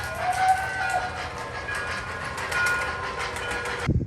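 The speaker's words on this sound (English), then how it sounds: "It's so cool, this train." An O scale Lionel model train on Fastrack clatters steadily along its track with a continuous whirring rumble, then stops abruptly near the end.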